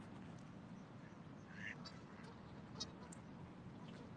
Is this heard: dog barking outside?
no